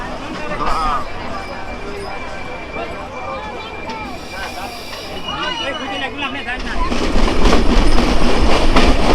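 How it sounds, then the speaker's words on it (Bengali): The crowded Madhumati Express train from Rajshahi to Dhaka rumbles and clatters steadily past Kumarkhali station while people talk nearby; the rolling noise swells louder toward the end. "এক পাশে এক্সপ্রেস ট্রেন আর এক পাশে হচ্ছে এরকম লোকাল ট্রেন"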